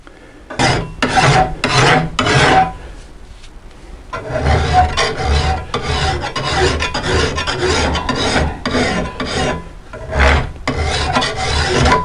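A metal file rasps across a wheel hoe blade clamped in vise jaws, loud close strokes in a steady back-and-forth rhythm, with a brief pause before a longer run of repeated filing.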